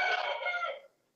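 A rooster on a farm gives one loud, close crow that trails off after about a second, with no talk.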